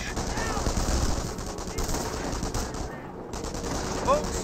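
Machine-gun and rifle fire crackles in sustained bursts during a Company of Heroes battle, dense rattling volleys with a brief lull before more shots.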